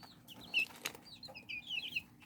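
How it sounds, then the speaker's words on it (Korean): A pair of Serama chickens, the tiny bantam breed, peck and feed in a small parrot cage, giving off faint, soft clucks and chirps scattered through the quiet. "나왔습니다. 세레마 한 쌍이죠."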